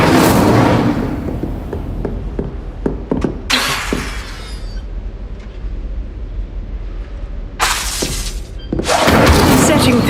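Casting the Incendio fire spell in Hogwarts Legacy: bursts of roaring flame whoosh up loudly, interspersed with sharp thuds and crackling impacts, and a voice speaks between the blasts.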